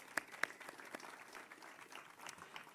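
Applause for the Rancho Verde High School JROTC at a Veterans Day ceremony in Moreno Valley: faint, thin clapping from a crowd, a few sharper nearby claps standing out early over a soft, distant patter.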